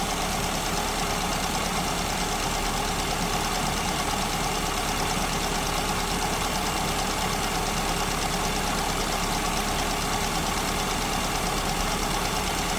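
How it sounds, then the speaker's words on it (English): A car engine fitted with an SU carburetor idles steadily and loud, its low rumble wavering slightly as the idle mixture is leaned, with no voices over the continuous hum. "we just see the idle speed start falling back down and becoming unstable"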